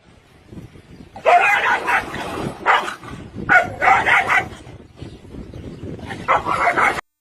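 A dog barks and yips in short bursts, close and fairly loud, with whimpering touches between the barks.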